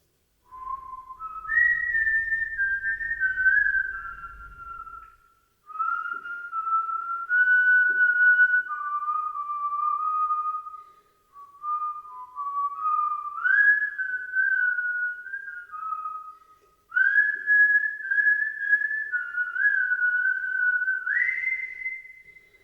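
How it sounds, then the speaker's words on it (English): A man whistles a wandering tune in a public restroom stall at a highway rest stop, a clear solo melody in several long phrases separated by brief pauses, fairly close and with no talking. "Then he began to whistle."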